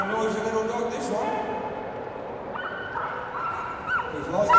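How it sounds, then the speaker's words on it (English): A small, noisy agility dog runs a course at the Crufts 2002 agility championship final, yapping and whining near the mic under steady commentary. "It's a very noisy little dog, this one."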